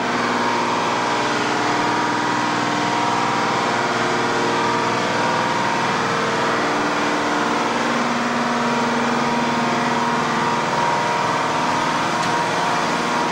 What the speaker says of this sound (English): I don't know if you can hear this at all, but here's one of the main engines.